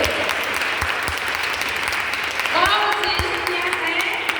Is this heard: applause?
yes